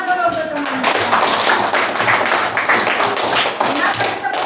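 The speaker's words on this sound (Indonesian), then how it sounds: "Tepuk tangan dulu untuk semuanya." Group clapping in a classroom-style gathering, loud and close, with a dense, uneven patter of hands filling the whole stretch and a voice briefly audible at the start.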